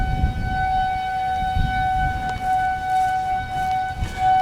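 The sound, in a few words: tornado warning sirens in Missouri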